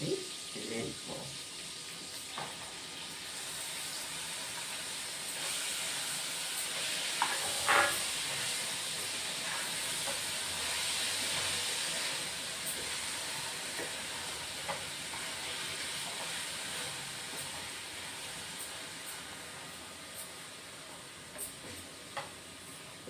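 Brinjal is fried with onion and green chillies in a pan, giving a soft, continuous hiss and sizzle with a few faint clinks of stirring, fairly quiet and steady throughout.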